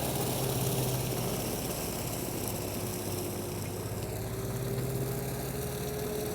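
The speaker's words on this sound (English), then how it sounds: "when the tractor's running full throttle" A steady, loud 30 HP tractor engine drone at full throttle with a constant low rumble and whine, running unchanged throughout with no talk.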